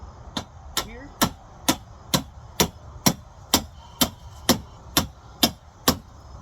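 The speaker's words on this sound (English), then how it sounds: "Got my hammer. Gonna bang this in a little ways." A hammer bangs a Halloween decoration in a little way, about fourteen sharp, close knocks in a steady, evenly spaced rhythm, with a brief voice near the start.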